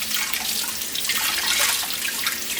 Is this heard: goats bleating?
no